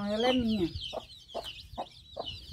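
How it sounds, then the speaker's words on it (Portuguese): A pet hen on a farm clucking in several short, evenly spaced clucks close by, following a brief spoken voice at the start. "É a minha galinha de estimação"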